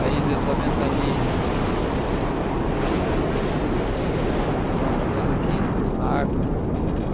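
Howling wind in the Mad Max video game, a loud continuous rushing roar with gusty swells that fills the whole stretch, steady and close, with no talk over it.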